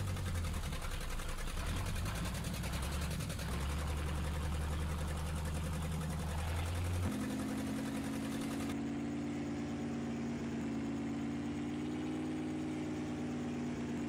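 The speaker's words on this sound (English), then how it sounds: "Tractor incoming." Tractor engine in Farming Simulator 2013, a continuous droning idle that shifts pitch partway through as the revs change, steady and fairly loud with no breaks.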